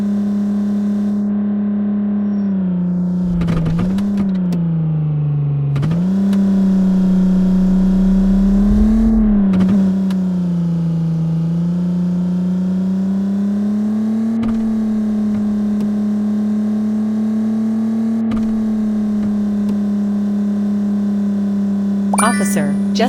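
A police car's engine drones steadily in a 3D parking and chase video game, its pitch rising and dipping gently as it accelerates, with occasional thumps of impacts.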